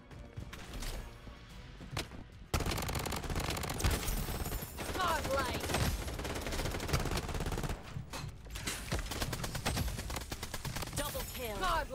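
Gunfire rattles in the shooter game Bloodstrike, with bursts of rapid automatic shots and single cracks over several seconds while a player talks.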